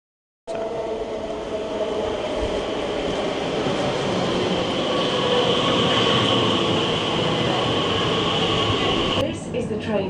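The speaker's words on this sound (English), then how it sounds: "This is the train to Liverpool Street." A London passenger train bound for Liverpool Street rumbles along with a steady roar, wheel noise and a sustained tonal whine for about nine seconds. Speech in the carriage is faintly audible, and the sound breaks off with a clatter at the end.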